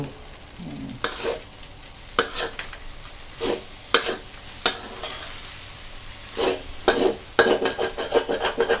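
Jasmine rice being dry stir-fried with little oil in a pan: a steady sizzle under repeated scraping strokes of a spatula, close by, with no talking.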